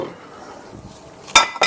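Two sharp ceramic clinks of a casserole dish being set down near the end, after a quiet stretch.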